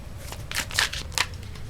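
Tarot cards are shuffled in a few quick riffling bursts, close and crisp, with soft papery flicks between them in a quiet room.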